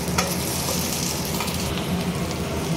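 Fried egg stirred into a pan with a steady sizzle, spatula scrapes and light clatter repeating up close, with no one talking.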